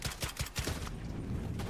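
Pistol gunfire in the Call of Duty video game, a quick run of several sharp shots in the first second followed by a busy rumbling game mix, moderately quiet with no speech.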